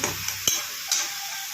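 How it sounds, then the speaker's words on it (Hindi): A spoon stirs vegetables frying in oil in a pan for Sindhi home cooking, giving a few sharp scraping clinks over a soft, steady sizzle, close and without talk. "आप ऐसे चलाते रहोगे, भूनते रहोगे तो फटाफट हो जाएगा"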